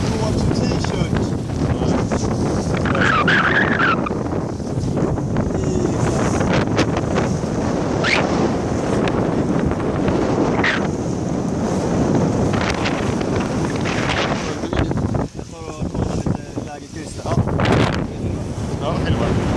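Strong wind of around 6 to 7 roars steadily across the microphone while out sailing, with water splashing and surging against the sailboat throughout.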